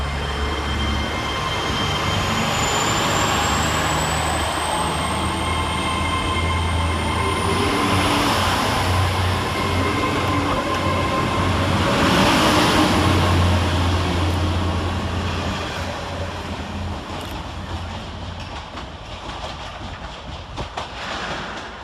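A Great Western Railway Class 800 train works through Worcester Shrub Hill station, its rumble swelling to a close peak mid-way with a thin high wheel squeal, then receding as the running noise fades.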